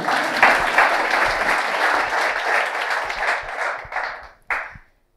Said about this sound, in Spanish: hay que aplaudir, ya que hemos aplaudido